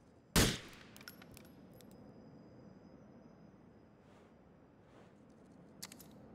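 A single loud gunshot from GTA 4 cracks near the start, then a quiet stretch with faint clicks and a small pop near the end.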